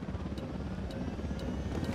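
Helicopter in the Ghost Recon Wildlands video game, a steady close rotor drone with regular sharp blade chops roughly every half second, no talking.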